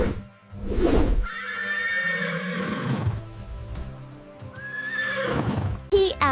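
A horse gives a long, trembling neigh followed by a second whinny, with a few hoof clip-clops and music running underneath.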